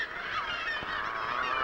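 A dense seabird colony of auks and gulls calls continuously, many overlapping honking and crying voices forming a steady, loud wall of sound with no gaps.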